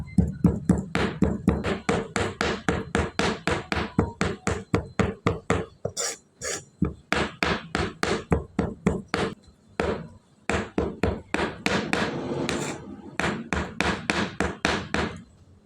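A knife chops and minces meat on a cutting board in fast, sharp, rhythmic knocks that are loud and close, broken by a couple of brief pauses, with no speech.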